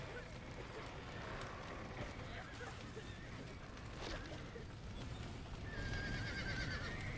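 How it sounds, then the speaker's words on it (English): Horses in the Red Dead Redemption video game galloping with a continuous rumbling clatter of hooves, a few faint whinnies and thin high calls rising above the noise, with voices occasionally heard alongside. "Now get the horses out!"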